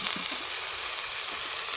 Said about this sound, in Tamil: கீரை சூப்பராக வதங்கிடுது